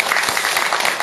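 An audience of monks and listeners at a Buddhist dharma lecture applauds together, giving a dense, steady patter of many hands clapping at close range without any voices.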